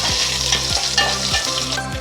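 Curry leaves and green chilies sizzle loudly in hot tempering oil for khaman dhokla, a steady close frying crackle with repeated stirring strokes and no talking.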